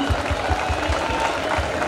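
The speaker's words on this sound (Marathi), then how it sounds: "खरंच एकदा जोरदार टाळ्या सरांसाठी एकदा प्लीज" Applause from an audience at a stage event honoring a guest, a dense, even patter of clapping across the whole short stretch, moderately loud with faint murmur underneath.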